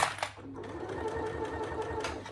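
Sewing machine stitching the gusset of a saddle bag: a close, continuous run of rapid, even stitching with a faint mechanical hum, and brief handling noise at the start.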